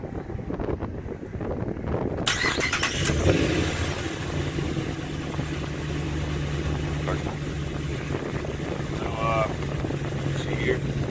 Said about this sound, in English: gonna crank it up real quick. Hopefully it starts the first time